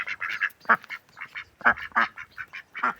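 Muscovy ducks at a water trough give a run of loud, close, raspy calls in quick uneven bursts, with no splashing standing out.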